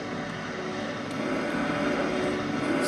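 A military plane in a Minecraft planes mod drones through the air with a steady, dense engine roar that grows slightly louder, continuous and close with no speech.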